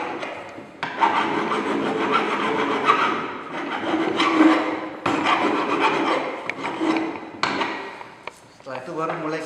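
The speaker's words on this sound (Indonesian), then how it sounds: "Setelah putus, ini kita kikir ujungnya." A hand file rasps back and forth across the freshly cut end of a pipe before threading, loud and close, in several long scraping strokes separated by brief pauses.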